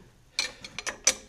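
Spanner clicking and ratcheting while tightening a BC ER coilover collar: a handful of short, sharp metallic ticks and clacks, close and fairly quiet, spaced irregularly over a second with no talk.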